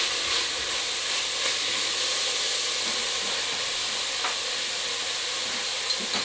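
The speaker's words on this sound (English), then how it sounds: "And we'll give that a little bit of a stir." Red lentil soup being stirred in a pot, with a steady simmering hiss and faint scraping throughout, no talk.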